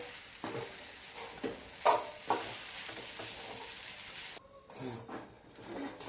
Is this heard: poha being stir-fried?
yes